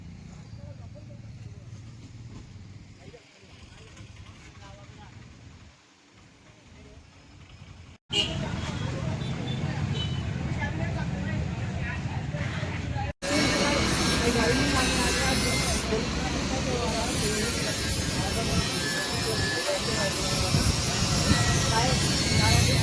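A truck carrying a band's gear pulls away from a welding shop to drive to Amalner. Its engine is faint at first, then jumps into a loud, steady, close rumble that keeps on to the end.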